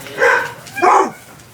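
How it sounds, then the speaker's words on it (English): Dogs barking indoors, two loud close barks about half a second apart, with no talk over them. "the dogs are going to start barking"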